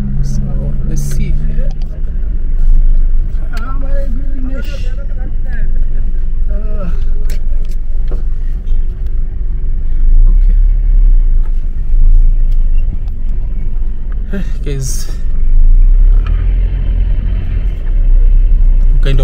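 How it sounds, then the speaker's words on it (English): Steady busy car traffic rumbles through Nairobi's central business district, a dense low drone of engines with occasional passing vehicles, while a person talks over it throughout. "There are so many cars today."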